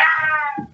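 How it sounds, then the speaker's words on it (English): A cat gives a single clear, close meow, bright and slightly falling, trailing off into a soft low rustle at the end. "That's a cat."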